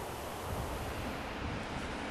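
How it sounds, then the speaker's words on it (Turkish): Snowmelt water from Gürlevik Mountain rushes downhill close by in a steady, moderately loud wash, with no voices over it. "Gürlevik Dağı'nın eriyen kar suları hemen yanımdan görsel bir şölen adeta oluşturarak aşağıya iniyorlar."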